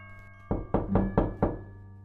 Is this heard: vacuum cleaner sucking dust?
no